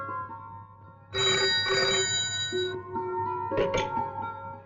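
Telephone ringing on a call: a quiet electronic tone swells into loud repeated ringtone bursts with shimmering harmonic chimes, pausing briefly between rings, alone without talk.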